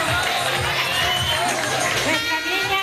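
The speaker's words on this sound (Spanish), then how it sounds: "Recibámosla con un fuerte aplauso a nuestra querida candidata." A crowd cheers and claps for a ninth-grade candidate at a local beauty pageant, a loud continuous mix of shouting children and applause with chatter underneath.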